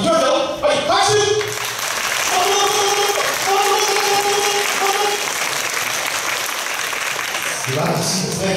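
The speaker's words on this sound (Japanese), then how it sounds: "私が手を回しますので、拍手をお願いします。" An audience at a pro wrestling show in Bisei applauds on cue, sustained loud crowd clapping that fills the room, with an announcer's voice briefly over it near the start and end.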